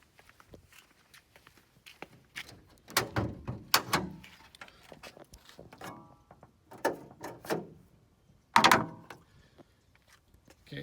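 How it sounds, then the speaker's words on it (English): Someone opens the hood of a 1980 VW Rabbit pickup. Scattered footsteps and mechanical clunks lead up to a sharp latch clack near the end, all close and fairly quiet, with no talking. "Let me open up the hood for you."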